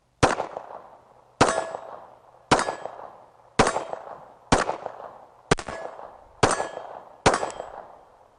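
A Kimber Rapide Black Ice pistol with a 5-inch barrel fires eight sharp, evenly spaced shots at a shooting range, each about a second apart, with short decaying echoes between them.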